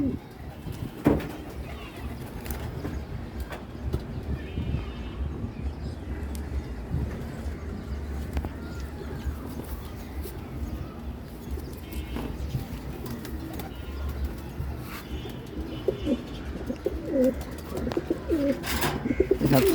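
Pigeons coo in a pair kept at a home, soft, repeated low coos heard fairly close amid a quiet room, while someone talks throughout.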